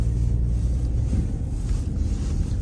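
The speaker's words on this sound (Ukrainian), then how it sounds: "Коробка плавно себе переключає, гарно відпрацьовує" Cabin rumble of a Renault Koleos 2.0 dCi 4x4 with automatic transmission while driving, a steady low drone and road noise with smooth, barely noticeable gear changes, close and continuous.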